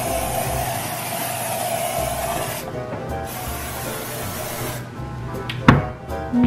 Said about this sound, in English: I guess we have olive oil spray, so I'm gonna spray.